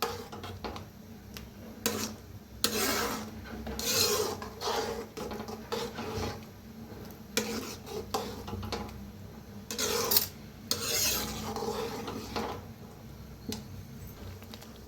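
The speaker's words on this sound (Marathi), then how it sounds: "आता हे पहा असं मस्त असं हलवायचं म्हणजे गाठी होत नाही" A spoon stirs buttermilk and gram-flour pitla in a pan, scraping and rubbing against the metal in uneven bursts. The strokes are fairly faint, close and irregular, with brief pauses between them.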